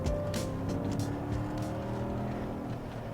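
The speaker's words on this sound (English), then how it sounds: "Love that sound. This V8 is just throaty." An Audi A6 4.2 V8 engine rumbles steadily and loudly throughout, a deep throaty drone with no break and no voices.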